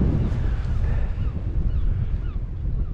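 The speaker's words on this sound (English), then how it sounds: "It's got the wind, it's picked right up" Strong coastal wind on Scotland's east coast buffets the microphone in a steady, loud low rumble with gusty swells throughout, no voices.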